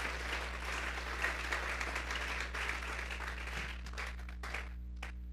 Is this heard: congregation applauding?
yes